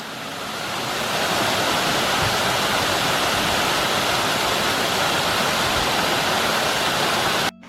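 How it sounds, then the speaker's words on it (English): Spring runoff thunders over an iced-over waterfall into a big pool, a loud, steady, close roar of rushing water that keeps on without a break until it cuts off abruptly at the end. "this is an amazing waterfall. Still iced over there. Full of spring runoff."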